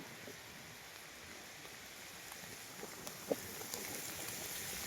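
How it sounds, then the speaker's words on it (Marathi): Rain falls outdoors during crab catching in May, a faint, steady hiss with a few scattered drops tapping nearby and no talking. "पाऊस सुद्धा आलेला आहे मित्रांनो बघा पाऊस तुम्हाला दिसत आहे"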